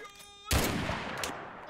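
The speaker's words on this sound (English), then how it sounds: "it's a fucking anti-aircraft gun shooting at us" An anti-aircraft gun firing in the Mud and Blood video game, with a sudden loud blast followed by a sustained noisy burst of fire after a brief quieter moment.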